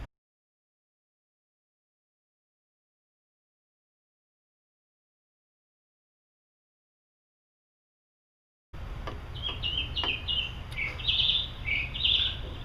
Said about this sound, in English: my birds chirping in the background